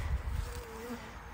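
Honey bees buzz in a subarctic bee yard after their hives were moved, a soft steady drone that lasts the whole moment, faint and even in level, with no voices.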